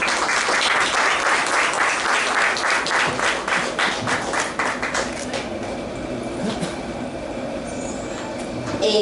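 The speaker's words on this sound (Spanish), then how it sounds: "Un fuerte aplauso para Wendy, por favor" Strong applause from a congregation at a spiritist anniversary gathering in El Salvador, a loud, steady roar of many hands that gradually thins and softens toward the end.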